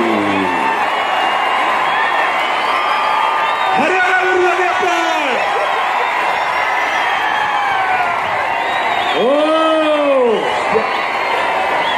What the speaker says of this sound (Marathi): जोशाने जल्लोष चालू झालेला